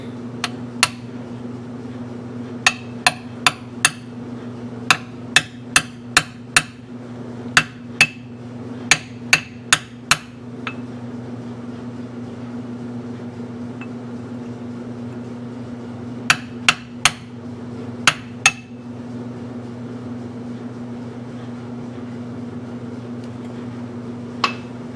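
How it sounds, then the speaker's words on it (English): A hammer taps an axle nut socket made for a Willys onto a CJ5 yoke, landing in quick bursts of sharp metallic strikes with pauses between, over a steady low hum. "We're just gonna tap, tap, tap-a-roo. This is an axle nut socket for a Willys"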